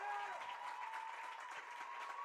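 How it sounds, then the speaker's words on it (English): Faint cheering and clapping rise from the Oconee County bench at a high school soccer semifinal against Westminster, a steady, distant wash of applause lasting a couple of seconds. "You can hear the cheers from the Oconee County bench."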